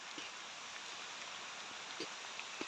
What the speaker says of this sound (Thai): ดูครับนะครับฝนก็ตกลงมาอีกแล้วนะครับ